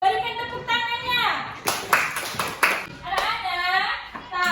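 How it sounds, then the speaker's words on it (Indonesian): Children in a classroom clap together in short, rhythmic bursts of patterned clapping, sharp and close, interleaved with a teacher and kids speaking and chanting between the claps. "Berikan tepuk tangannya."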